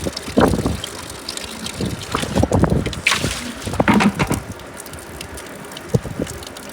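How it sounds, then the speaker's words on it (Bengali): Strong outdoor wind gusts buffet the microphone in rough, uneven surges, loud and close, with intermittent rumbling bursts and no talking. "অনেক বাতাস প্রচুর বাতাস হ্যাঁ।"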